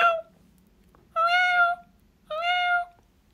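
Two drawn-out meows from a small cat, close and clear, separated by quiet pauses with faint background hum.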